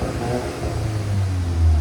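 Turbocharged 2.0L engine of a 2025 VW Golf GTI with its resonator deleted, revving up in one sustained low rumble that swells toward the end, heard close and fairly loud.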